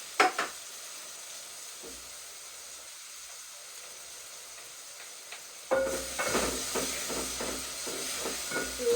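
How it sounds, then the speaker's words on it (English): Onions, garlic powder, spices and tomato paste sizzling in a pan for Italian stuffed peppers: a faint hiss at first, then a louder, steady sizzle with scattered crackles over the second half. "Give everything a stir and let your onions and spices cook at this juncture"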